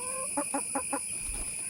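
A pet hen clucks at a house after rain, giving four short, evenly spaced clucks at close range, followed by a low thump, with a steady high ringing drone in the background.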